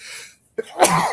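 A single sharp human sneeze, close and loud, preceded by a brief inhale and a short catch of breath.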